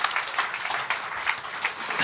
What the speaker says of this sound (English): Can I get a big round of applause if you think this is amazing?